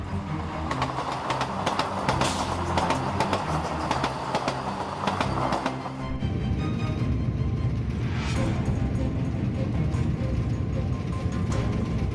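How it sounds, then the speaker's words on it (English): Vande Bharat Express train travelling at high speed on tracks where a sheep is crossing, a loud continuous rail roar and wheel clatter that abruptly shifts character midway. "The Vande Bharat Express strikes a sheep crossing the tracks while traveling at high speed."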